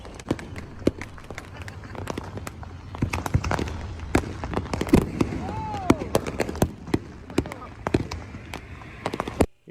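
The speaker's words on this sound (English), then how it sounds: "you can see fireworks better when it's dark" Fourth of July fireworks and firecrackers pop and crack irregularly at a distance, with one rising whistle, while people talk nearby throughout.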